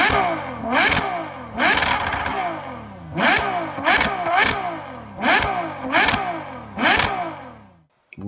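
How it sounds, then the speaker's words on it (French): A Ferrari 812 Superfast V12 roars through a series of sharp revs, about seven loud rising blips in quick succession, each snapping up and falling away, before cutting off at the end. "Je vous laisse avec le bruit du moteur."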